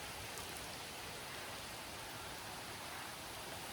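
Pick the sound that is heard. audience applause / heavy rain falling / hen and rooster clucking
heavy rain falling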